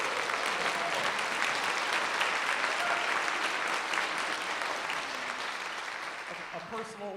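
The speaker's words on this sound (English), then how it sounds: "Can you get one more round of applause for Grant Hemke, please?" Audience applause at a Birmingham concert band performance: a sustained, dense wash of clapping from a crowd that holds steady, then gradually thins and tapers off toward the end.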